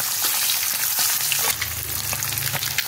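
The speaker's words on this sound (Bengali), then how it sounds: "ডিমটা একটু একটু ভেজে আমি তুলে নেব" Eggs frying in hot oil in a kadai, a steady dense sizzle and crackle that stays loud and close throughout, with no voices.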